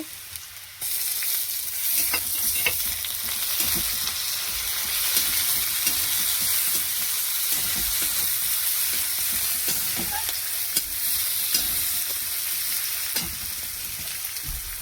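Onion frying in oil with ginger garlic paste, a loud continuous sizzle close by with occasional stirring scrapes throughout, no talk.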